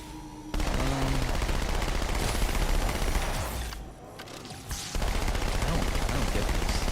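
Sustained submachine-gun fire in Halo 2 rattles in long, loud automatic bursts, with a brief dip in the middle before the gunfire resumes at full intensity.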